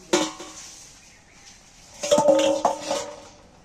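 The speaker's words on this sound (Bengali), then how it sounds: "এবার মাছগুলো সেদ্ধ হওয়ার জন্য আমি একটু চাপা দিয়ে দিচ্ছি" Metal lid set onto a pan of simmering fish curry, giving a sharp clatter at the start and a second cluster of ringing metallic knocks a moment later, close and fairly loud.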